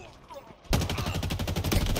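Rapid automatic gunfire erupts abruptly in Halo Infinite multiplayer, a dense, loud rattle of shots that carries on steadily after a quieter opening.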